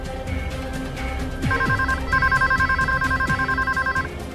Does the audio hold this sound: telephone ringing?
yes